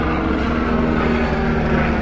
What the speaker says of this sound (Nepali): ऊ हेलिकप्टर आयो